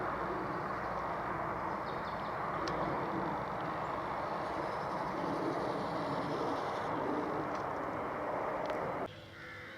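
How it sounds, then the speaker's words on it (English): A train rolls past far off near a countryside railway line, a steady broad rumble that holds for several seconds and then drops away abruptly near the end. "the train's going by as I speak"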